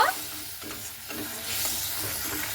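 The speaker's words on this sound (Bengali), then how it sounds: "খুব ভালো মতো করে মশলাটাকে কষিয়ে নেব" Ground turmeric, cumin and Kashmiri chili powder sizzle in a kadai as a spoon stirs and scrapes them, producing a soft continuous frying hiss with gentle stirring swishes, close by and moderately quiet.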